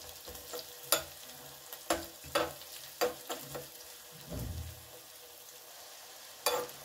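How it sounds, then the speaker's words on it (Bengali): Chopped onion and two cloves of garlic sizzle in butter in a pan, with a steady soft fry broken by several sharp scraping clacks as a utensil stirs them, close by and with no talking. "ভালো করে একটু বাটারের মধ্যে এটা নাড়াচাড়া করে নেব।"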